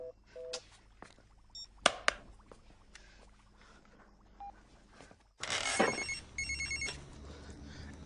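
In a scene from the comedy film Fukrey, short electronic telephone ring tones and dialing beeps sound intermittently in a quiet room, followed by a louder burst of repeated ringing near the end.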